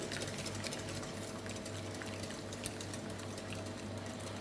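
Egg yolks and oil whisked nonstop into mayonnaise, a steady continuous whirring with a faint rhythmic clatter throughout, fairly quiet and even, with no talking.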